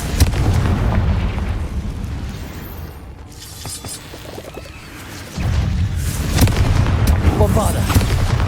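A Confringo fire spell blasts in Hogwarts Legacy: booming explosions with a heavy low rumble, strongest in a sudden burst partway through and another crackling impact near the end, set over ongoing cave-combat game sounds.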